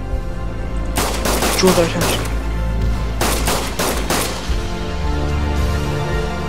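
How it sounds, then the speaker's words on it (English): Gunfire in the Arma 3 Wasteland game crackles in several rapid bursts of fusillade and machine-gun fire, fairly loud, with a player talking over parts of it. "They're shooting at Tim."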